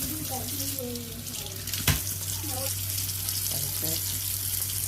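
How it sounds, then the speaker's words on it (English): Tap water runs steadily into a kitchen sink as pork chops are rinsed, a close, continuous hiss with a brief clunk partway through and a person talking over it. "So here I am just cleaning up my pork chops and getting them ready for the oven."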